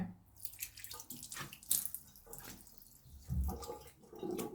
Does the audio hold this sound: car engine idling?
no